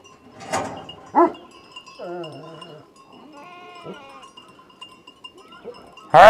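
Sheep bleat at close range on a farm where a ewe has just given birth, several separate wavering calls spaced a second or so apart, with a sharp louder bleat cutting in at the very end.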